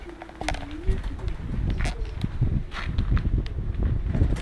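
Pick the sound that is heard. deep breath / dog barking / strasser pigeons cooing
strasser pigeons cooing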